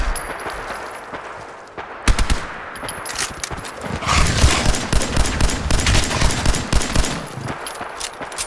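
Rapid bursts of heavy gunfire from a big gun in Fallout 4, loud and close, firing in dense repeated volleys with a short gap early on.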